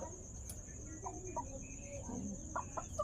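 Pet chickens and a rooster clucking softly at night before roosting, several short calls scattered over a steady insect drone, fairly quiet and close.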